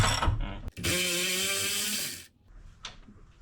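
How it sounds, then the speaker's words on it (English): A ratchet removes the motor mount bolts on a 1996–2000 Honda Civic, a quick burst of clicks, then a long steady whirring run, and a few faint clicks after, close up. "Wyatt is going to remove the bolts holding the mount on"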